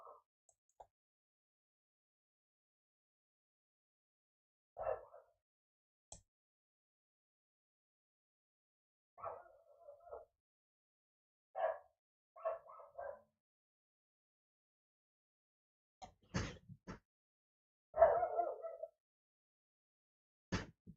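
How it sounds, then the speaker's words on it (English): Dogs bark intermittently in the distance, scattered single barks and short clusters against a quiet background. "And they're just barking."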